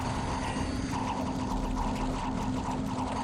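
The Cleansing Water spell effect in the strategy game Dominions 5: a steady, loud rush of pouring water with a constant hum underneath, alone with no talk.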